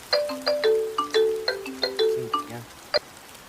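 A phone ringtone plays alone, a melodic electronic chime of repeated rising and falling tones in quick succession, fairly close and clear, ending with a sharp single note.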